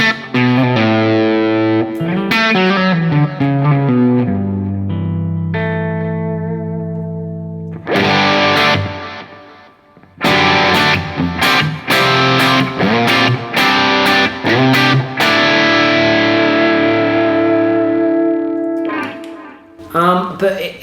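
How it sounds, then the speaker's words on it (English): An electric guitar runs through a Bogner Blue overdrive pedal set to fairly high gain, playing driven chords and sustained notes, then choppy, muted rhythmic stabs before ringing out again, loud and close. "next up is the Bogner Blue pedal, which I have set up kind of fairly gainy at the moment"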